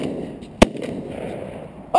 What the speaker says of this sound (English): I think I shot them both with that first shot